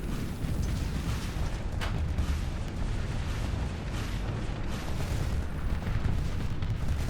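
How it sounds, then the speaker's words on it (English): Fireworks burst in a colony-building video game, a dense run of rumbling booms and crackling pops layered continuously over about seven seconds, with no voices. "These are fireworks."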